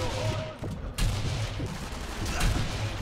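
Dense machine gun fire in the video game Sniper Elite V2 rattles in loud, continuous bursts, with heavy gunshot booms layered throughout.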